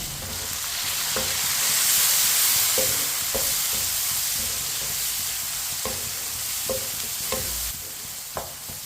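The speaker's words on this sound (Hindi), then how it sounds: "दो बारीक कटे हुए टमाटर डाल लेंगे। 2 सब्ज़ मिर्च बारीक कटी हुई मिक्स कर लेंगे।" Finely chopped tomatoes and green chillies sizzle in a hot pan for a black chana curry, a steady frying hiss broken by regular scraping strokes of a spoon stirring them, close and loud with no talking.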